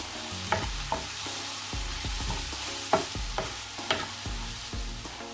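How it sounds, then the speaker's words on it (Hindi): Salt, crushed chili, cumin and a little turmeric being stirred into a hot tawa pan, a steady sizzle under repeated sharp scraping strokes of the spoon, close and alone with no talk. "अब इसमें आधा चम्मच नमक, 1 चम्मच कुटी मिर्ची, 1 चम्मच जो है ज़ीरा और 1/4 चम्मच हल्दी ऐड करके मिक्स करूँगी।"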